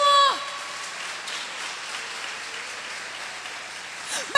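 A church congregation claps in a sustained wash of applause; a brief voice and a tonal sound come through at the start, then the clapping carries on evenly.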